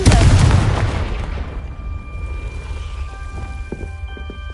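A Confringo fire spell in Hogwarts Legacy lands with a heavy, booming blast that decays slowly into a crackling, rumbling tail, with faint chimes over the fading noise.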